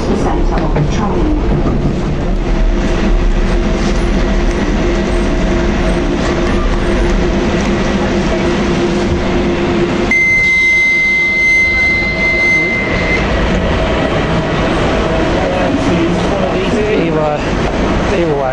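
Interior of a train running between stops, a steady loud rumble of wheels and motor filling the whole stretch, with a high whine rising partway through.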